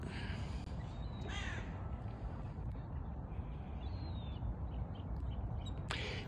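Faint crow caws and other bird calls sound outdoors over a steady low background rumble, scattered and fairly distant.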